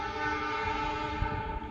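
Two Indonesian trains meet, the Jalan Darat tourist train and the Argo Wilis, with a sustained loud horn blast of layered harmonic tones held over steady rumbling rail and engine noise throughout.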